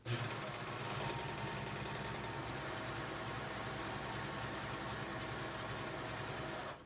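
A serger sewing machine stitching a rolled edge with three threads runs as a steady, fast mechanical whir that holds level from start to finish.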